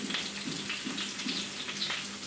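Ginger dropped into hot oil with curry leaves for a Kerala-style vindaloo, a close, bubbling sizzle that pulses unevenly with soft spattering pops and no talking.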